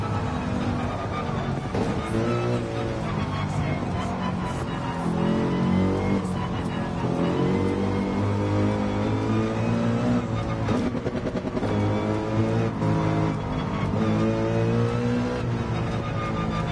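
A Mercedes race car engine in Gran Turismo 7 revving hard through second gear, loud and continuous with rising and falling harmonic whine and shifting pitch, close up and unbroken throughout.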